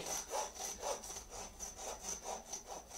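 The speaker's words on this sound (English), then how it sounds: "You can actually hear and see the ribs sawing one by one" Steady back-and-forth strokes of a new-bladed hand saw biting through deer ribs while butchering, about two strokes per second, close and rhythmic with a faint whine.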